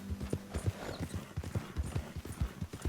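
A horse gallops in Red Dead Redemption 2, its hooves pounding in a quick, steady clip-clop rhythm close up and moderately loud with no voices over it.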